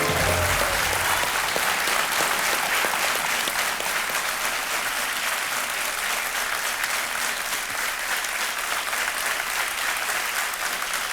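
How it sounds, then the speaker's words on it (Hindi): A studio audience on the Indian quiz show KBC breaks into loud, sustained applause that carries evenly through the whole stretch without pause. "तालियां बजते हैं इनके लिए"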